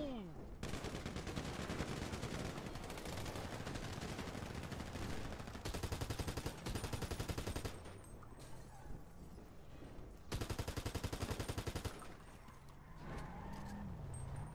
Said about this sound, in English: It looked like some agent was shooting at us.